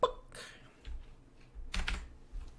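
Computer keyboard typing in short irregular bursts of clicks with pauses between, fairly quiet and close, no talking.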